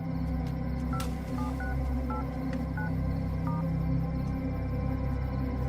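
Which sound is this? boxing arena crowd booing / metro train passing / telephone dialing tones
telephone dialing tones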